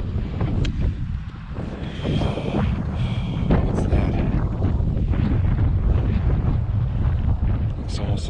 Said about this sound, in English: Sorry about the wind and road noise